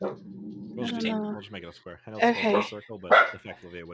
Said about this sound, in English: I am sorry about my barking dogs